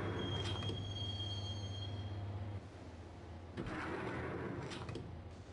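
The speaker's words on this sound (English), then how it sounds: "the train doors had already shut behind me, and I was in for the ride" Train ride in the Max Payne video game, a continuous rumble of rolling railcars with a high metallic wheel squeal early on, a low hum that drops off, then clattering bursts as the car rocks.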